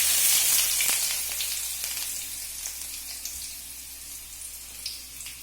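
Chopped onion fries in a pan over a low gas flame with a bright, steady sizzle and scattered crackles, softening gradually over a few seconds.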